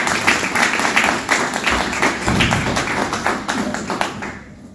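An audience at a forum opening applauds, a dense burst of many hands clapping that fades out at the end.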